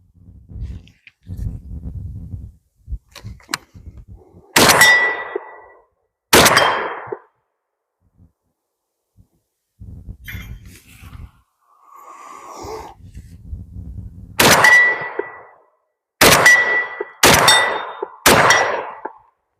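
Shotgun blasts from a Hatsan Escort Bulltac, each followed by the ringing clang of steel gong targets, several loud reports spaced out with quieter handling noises between them.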